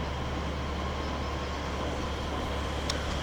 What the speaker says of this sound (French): Simplement les trains qui passent.